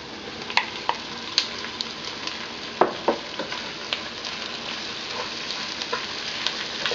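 Pig's heart sizzles in a pan with softened onions while being stirred, a constant frying hiss punctuated by sharp spoon scrapes and clinks, close and without talk.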